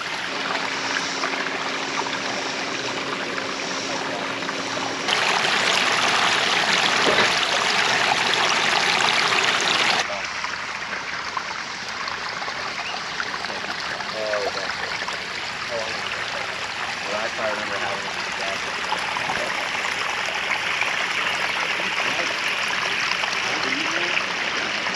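Water pours continuously over a natural-looking pondless backyard waterfall in a steady, close, full rush with trickling splashes, growing louder for a stretch in the middle before settling back.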